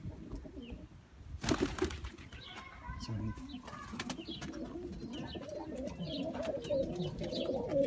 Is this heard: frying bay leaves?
no